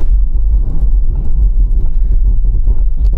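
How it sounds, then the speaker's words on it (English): A Range Rover Sport's engine and tyres rumble heavily during an emergency stop on a wet surface, with the rapid juddering pulse of ABS running throughout. "Full emergency stop now."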